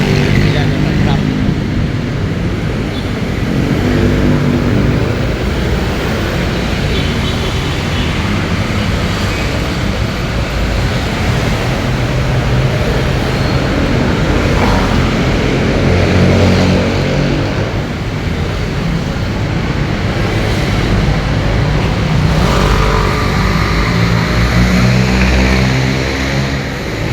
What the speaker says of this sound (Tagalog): Daloy ng traffic.